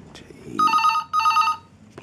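A telephone rings twice in short electronic trills, moderately loud, with a brief gap between rings and faint background noise.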